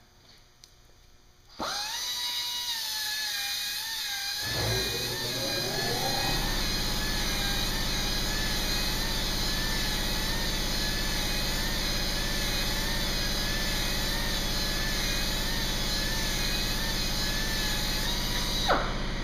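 A polisher fitted with 120 or 150 grit pads starts up and runs on natural stone, a steady high whine and broadband grinding hum that holds constant and close until it cuts off at the end.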